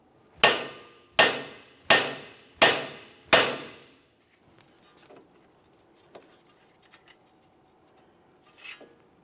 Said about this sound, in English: I'm just going to carefully use my hammer, cause some vibration. The tie rod should drop down.